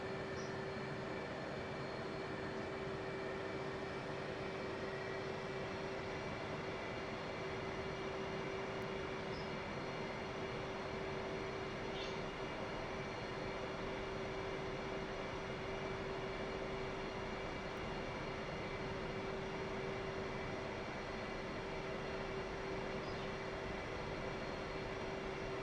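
An F/A-18C Hornet in the DCS flight simulator idles on the runway, its jet engines making a steady, unbroken whine and roar with a sustained tone that holds level throughout, with no talking.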